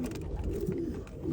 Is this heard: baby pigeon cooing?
yes